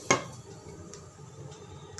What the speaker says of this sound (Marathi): झाकण ठेवते.